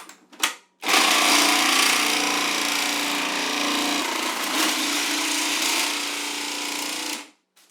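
A loud, continuous mechanical whirring grind runs for about six seconds, close by, shaving a frozen disc of 70% cocoa chocolate, starting and stopping abruptly with a brief knock beforehand.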